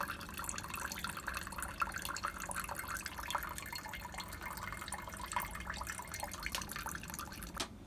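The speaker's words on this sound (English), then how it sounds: "I'll now filter it through some coffee filter papers." Liquid drips steadily through coffee filter paper in a funnel while sodium nitrate is being made, a faint, close, irregular patter of small drops running throughout.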